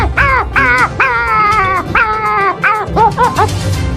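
A voice imitates a small dog barking: a run of high, yappy yips and whimpering barks, loud and close, in quick uneven bursts over four seconds.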